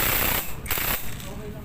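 Tightening timing gear bolts on a Kawasaki Barako 175 motorcycle engine, a loud, steady mechanical ratcheting chatter that runs continuously and close by, with a brief dip midway.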